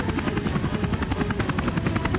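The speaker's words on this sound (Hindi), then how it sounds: "बाबा ने हेलीकॉप्टर नीचे लैंड किया।" Cartoon helicopter coming in to land, its rotor giving a loud, steady rapid chop with a constant engine drone that stays close and unchanging throughout.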